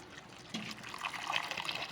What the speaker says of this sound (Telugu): అలచందల్లో ఉడబెట్టిన వాటర్ ఫ్రెండ్స్ ఇవి. ఈ వాటర్ వచ్చి ఇందులో వేసుకునేలా